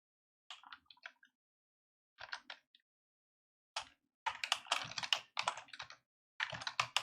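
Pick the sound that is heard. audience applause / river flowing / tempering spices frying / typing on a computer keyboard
typing on a computer keyboard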